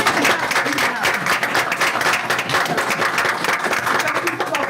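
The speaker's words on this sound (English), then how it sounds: "So there's still much cheering." Audience at a school board meeting applauds steadily, a dense wash of clapping lasting throughout with some cheering and voices mixed in.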